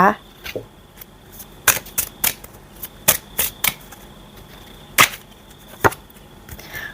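Tarot cards are drawn and laid out close by, making crisp, scattered slaps and snaps spaced irregularly, with a faint voice in the background.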